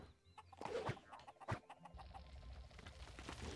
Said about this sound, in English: there's chickens all over.